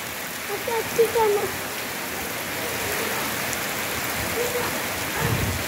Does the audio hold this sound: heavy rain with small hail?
yes